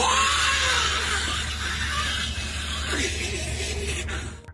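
A man screams at full volume, a loud raw shriek that holds strong at first, then wavers and trails off before cutting out.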